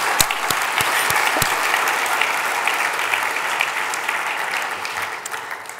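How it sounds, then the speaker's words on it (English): A conference audience at a surgical society meeting gives a round of applause, loud and continuous, beginning with a few sharp individual claps and slowly easing off. "let's do one more round of applause for that."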